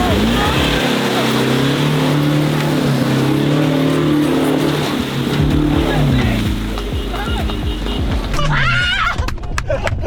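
A 4x4 off-road car revs hard at full power on a rough course, its loud droning engine note rising and falling continuously for several seconds, with crowd noise and voices mixed in underneath.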